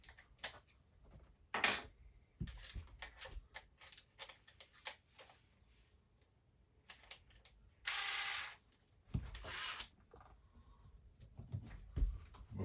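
Power driver with a 5/16 inch bit removing screws from an RV air conditioner flange, heard as quiet ticking and ratcheting clicks with a few louder short whirring bursts, close by and without talk.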